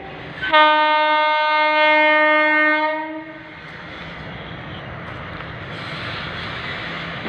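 A train sounds a loud, sustained harmonic horn blast for about three seconds at the Malavli railway level crossing, then a steady rumbling roar of the passing train continues to the end, with no talk.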